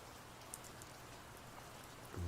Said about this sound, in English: I just noticed the rain sound stopped